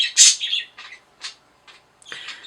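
Pet birds chirp indoors in a series of bright, high tweets and short calls, with a loud burst at the start and a few quieter chirps spaced through the rest.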